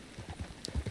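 Hooves of a red chestnut Suffolk Punch, a heavy draft horse in Red Dead Redemption 2, clopping in a quick, steady rhythm of close, moderately loud footfalls with no talk over them.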